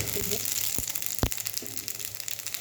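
Panch phoron whole spices hitting hot ghee in a pan, a bright steady sizzle and crackle with a few sharp pops and knocks, close and loud.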